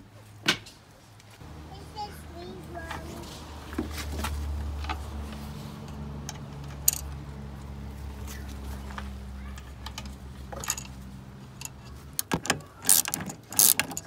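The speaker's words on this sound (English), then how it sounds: "So this is using the 13 millimeter box end wrench and socket." A 13 mm box-end wrench and socket tighten bolts on a swivel seat base in a camper van, giving scattered faint metallic clicks and ratcheting ticks over a low background hum, with a couple of sharper knocks near the end.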